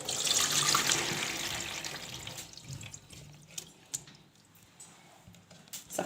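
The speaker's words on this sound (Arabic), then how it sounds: "صفاها في المصفى كده." Hot water from boiled potatoes pours through a colander in a kitchen, a full rushing splash at first that thins over a couple of seconds into faint trickles and scattered drips.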